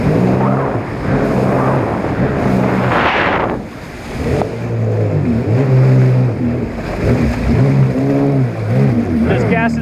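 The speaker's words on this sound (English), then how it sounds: "Just gas it up." A Traxxas Spark RC car revs hard while holding a vertical wheelie, its motor whining in repeated rising and falling bursts close to the microphone, with a brief dip midway and people talking over it.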